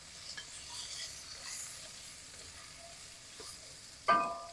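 Ginger sautéing in a pot for carrot soup, a faint soft sizzle under gentle scraping stir strokes, ending in a short sharp clatter of a utensil against the pot.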